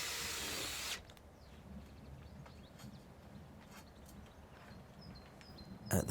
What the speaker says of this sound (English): Self-drill screw the lengths together.